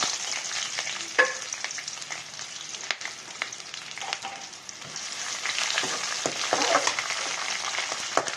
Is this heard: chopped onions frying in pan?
yes